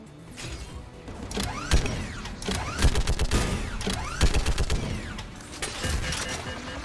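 Rapid turret gunfire in Mass Effect 3, with repeated sharp bursts and mechanical clatter filling a dense, loud combat mix for several seconds, no talking.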